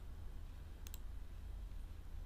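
A computer mouse gives one quick, close double-click while editing in Camtasia Studio, faint against a steady background hiss.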